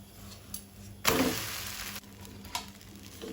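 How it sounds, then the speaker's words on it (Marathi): An urad dal and rice dosa frying in a little oil on a pan over medium flame, low sizzling broken by a sharp scraping burst as it is turned, then a few quieter clatters. "थोडेशें वयर तेल सोडटा आनी आतां आमी परतून घेवया।"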